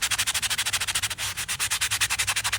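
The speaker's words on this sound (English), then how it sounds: "What you're gonna have to do, if you're using the UV technique, is you're gonna have to sand it." A cured UV resin glitter badge reel is sanded by hand in quick, rhythmic back-and-forth strokes, giving a close, gritty rasping that pulses evenly with one longer stroke midway.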